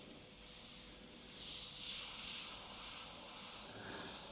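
An Ammo Atom spray gun running at about 20 psi gives a steady, soft airy hiss with slight surges, close by and without any talk over it.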